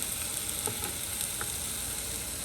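Blackened chicken fries in a pan with a loud, steady sizzle and crackle close up, alone without speech.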